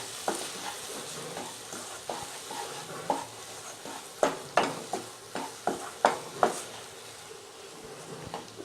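Masala powder being stirred in a pan for chicken gravy, with soft scraping strokes over a faint sizzle and a run of sharper spoon knocks against the pan near the middle.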